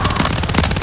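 Quick, rattling bursts of gunshots from an online video game 1v1 match, fairly loud and rhythmic like automatic fire, with no voices.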